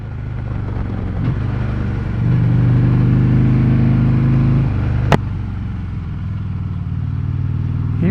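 A 2016 Harley-Davidson Road Glide Ultra motorcycle engine idles with a low, steady rumble, swells briefly in a rev, settles back, and a single sharp click punctuates the drone.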